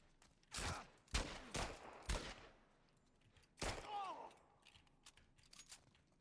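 Gunfire in The Last of Us Part 2 video game: several sharp, loud shots in an irregular cluster, then another blast with a ringing tail and faint clicks, a voice talking softly between shots.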